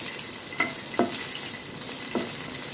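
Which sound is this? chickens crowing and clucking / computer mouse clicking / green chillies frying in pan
green chillies frying in pan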